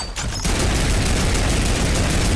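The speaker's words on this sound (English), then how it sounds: "Let me try out this new turret." A newly unlocked turret in an online first-person shooter opens up after a brief quiet start, then hammers out a continuous, loud, dense stream of automatic fire that fills the rest of the moment without letup.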